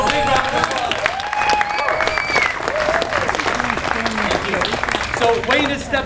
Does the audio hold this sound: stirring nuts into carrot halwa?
no